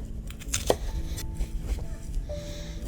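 An onion is finely chopped with a knife on a board, giving a few close, irregular thuds and cuts with some faint clatter of kitchen utensils around them.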